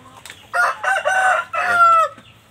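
An Indio Gigante rooster, a large jumbo breed kept on a home farm, crows in a few loud drawn-out bursts, close by, with faint background sound between phrases.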